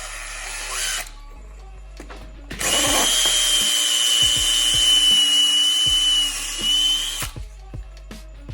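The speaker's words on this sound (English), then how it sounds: "And I drill all the way through the block into the hull" Power drill boring through a mounting block into an aluminum boat hull: a brief whir, a pause, then a sustained high-pitched whine for several seconds with clicks and knocks around it, close and loud.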